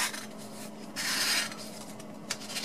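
A debit card sharpened into a knife with sandpaper slices through a sheet of paper, giving a dry rasping scrape that swells into one longer cut midway, then trails off in short strokes.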